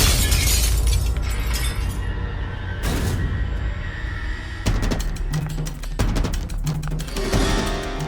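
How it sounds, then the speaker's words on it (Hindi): A car window's glass shatters loudly with bright crashing bursts, followed by further breaking and clattering shards against a dense, constant background din. "मेरी कार का कांच टूट गया।"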